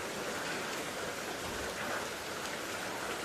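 Heavy rain pours down steadily in a dense, even hiss, close and loud throughout with no pauses and no voices.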